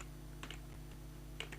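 A short burst of computer keyboard typing, a few quick, faint key clicks in two small clusters over a steady low electrical hum, with no speech.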